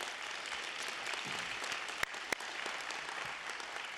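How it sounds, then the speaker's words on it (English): At a swearing-in ceremony, a modest audience gives even, moderate applause. Two sharp, louder claps stand out briefly in the middle of the steady patter. "let's give them a round of applause"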